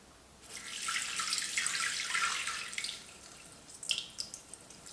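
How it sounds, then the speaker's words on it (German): Water pours steadily into a Thermomix mixing bowl, a close, fairly quiet splashing stream that runs for a few seconds and then trickles off into a few drips. "250 Gramm Wasser in den Mixtopf."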